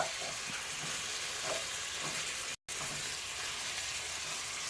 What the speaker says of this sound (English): Now I'm just going to wait till get the meat all like browned up.